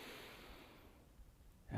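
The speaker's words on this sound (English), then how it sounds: "We'll breathe in through the nose and out through the mouth." A single deep inhale drawn in through the nose during a guided breathing exercise for calming anxiety, soft and close, with a louder rush of air right at the end.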